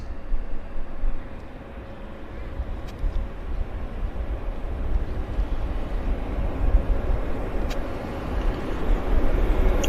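Airliner arriving at Vancouver airport on a flight from Calgary, a steady broad engine rumble with a faint low hum that swells gradually toward the end, no voices.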